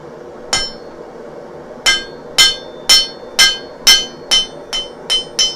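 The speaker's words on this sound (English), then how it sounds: "I'm going to bring this all the way to the near side of the anvil, or my side of the anvil, and I'm going to make a hit" A hammer strikes hot steel on an anvil while a nail is forged, giving about ten sharp, ringing metallic blows. The first lands alone, then the rest come in a steady, close, loud rhythm.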